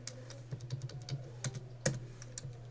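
Computer keyboard keys are tapped in a short, irregular run of typing, soft clicks close to the microphone over a steady low electrical hum, with no talking.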